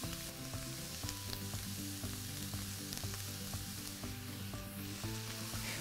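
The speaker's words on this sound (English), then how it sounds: "While these veggies are sauteing" Vegetables sauté in a pan for a vegetarian lasagna, a soft, steady sizzle with occasional stirring clicks, close but quiet, with no voices.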